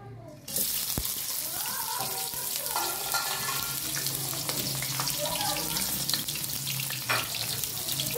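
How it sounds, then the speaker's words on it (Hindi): Chopped onions sliding into hot oil for aloo palak, setting off a sudden loud, continuous sizzle that stays strong and close for several seconds, with faint background voices. "ऑयल गर्म हो चुका है, अब इसके अंदर कटी हुई प्याज जाएगी"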